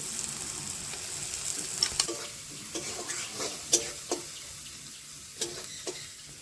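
Shrimp and pointed gourd dorma masala sautéed with turmeric and chili powder, a constant hiss of frying beneath scattered spatula clicks and scrapes on the pan, close up with no speech.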